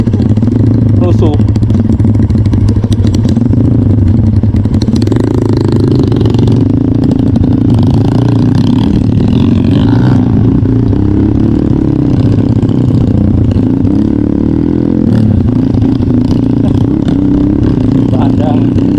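A motorcycle engine runs steadily and loudly in a forest, with clattering suggesting a faulty carburettor or cable, and people talk over the drone throughout.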